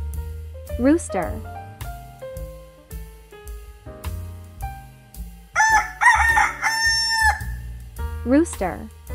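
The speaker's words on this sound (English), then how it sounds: "Rooster." A rooster crows twice, a loud cock-a-doodle-doo near the start and again at the end, over cheerful piano music.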